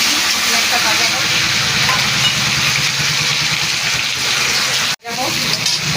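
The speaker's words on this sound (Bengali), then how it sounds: "মাছের মাথা ভাজা হয়ে গেছে, সেই তেলের মধ্যে দিয়ে দেবো পেঁয়াজটা দিতে নিয়েছি। পেঁয়াজটা ভাজা হোক" Sliced onion frying in oil left from frying a fish head, a steady close hiss and sizzle with faint stirring, briefly cut off near the end before resuming.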